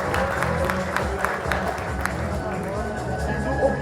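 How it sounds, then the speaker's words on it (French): An audience claps for a gamer introduced at a conference, a moderate wash of applause with some sharper individual claps and crowd murmur underneath, heard at a middling distance in a hall. "On l'applaudit."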